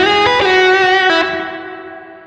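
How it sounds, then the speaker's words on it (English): Electric guitar played through a Zoom G5 multi-effect processor with spring reverb: a sustained, distorted chord with a few re-picked notes, ringing close and loud before slowly decaying. "a spring reverb is also nice with a Fender type amp"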